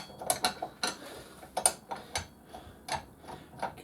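Socket ratchet on a homemade sheet metal roller, giving sharp repeated clicks in small bursts, fairly close and moderately loud with no talk.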